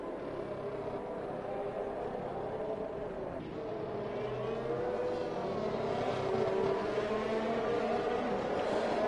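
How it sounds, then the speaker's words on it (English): F1 race cars from F1 2021 in a six-car field behind the safety car pass the marina yachts at Abu Dhabi, a steady mid-distance engine drone that swells slightly near the end. "Here's a 6-car field, making their way by the really expensive yachts in the marina."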